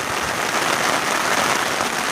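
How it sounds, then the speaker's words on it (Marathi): Heavy rain pours down outdoors near a forest, a dense, loud, steady hiss of drops with no break and no voices. "भरपूर पाऊस आला आता"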